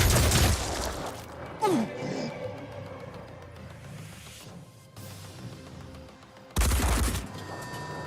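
Video-game gunfire bursts in a shooter match, a dense volley at the start, scattered quieter shots through the middle, then another loud burst near the end, with no talk.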